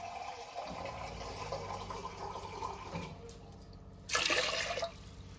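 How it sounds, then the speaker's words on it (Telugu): Water splashes briefly into a metal pressure cooker pot, a short close pour standing out above a low background hum. "కుక్కర్ గిన్నె పెట్టేసుకొని కొన్ని వాటర్ పోసుకోవాలి"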